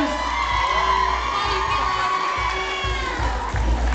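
A large audience at a Miss Asia Sacramento pageant shouts and cheers continuously, loud and close, with high excited voices and whoops blending into a sustained roar.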